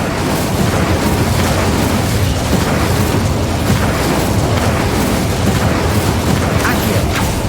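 Fire spell blasts from Hogwarts Legacy roar as a loud, continuous broadband rush with no clear gaps, filling the whole stretch.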